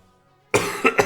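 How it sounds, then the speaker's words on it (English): Loud, close coughing bursts in quiet surroundings: an abrupt harsh cough followed by two more quick hacks, raspy and chesty, with no talk over them. "the coughing was terrible"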